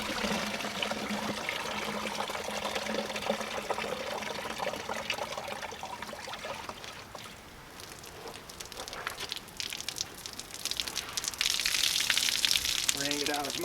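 Clothes being hand washed in a 5 gallon bucket, with steady sloshing, trickling and splashing water throughout, briefly quieter midway then busier and louder toward the end; a voice speaks faintly underneath.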